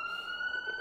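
A brief electronic police siren tone in a video game holds a steady, piercing pitch over a faint noisy background.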